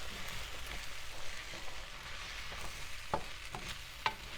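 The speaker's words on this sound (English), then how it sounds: "Now close that up, and you just start stirring that rice in there." Rice being stirred in a pan, a faint continuous sizzle with soft scraping strokes and a couple of sharper clinks near the end, quiet and close with no talking.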